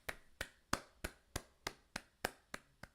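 A single pair of hands claps in a steady, brisk rhythm, about ten sharp, close claps spaced evenly over a few seconds, with no talking, at a The Last of Us episode 3 aftershow.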